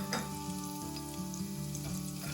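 Turmeric and rasam powder fry in a pan with a soft continuous sizzle and a low steady hum under it, a few light stirring clicks, and no voices.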